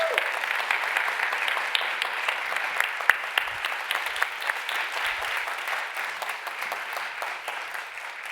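An audience at an awards ceremony applauds the five finalists, a dense sustained round of clapping that holds steady for several seconds and tapers slightly at the end.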